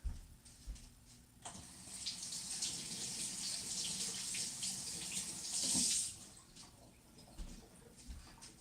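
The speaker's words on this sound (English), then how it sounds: "I'm gonna go rinse this onion off again real quick" Water running from a kitchen tap while an onion is rinsed, a steady splashing stream for several seconds that swells briefly before the tap shuts off, with a few clunks before and after.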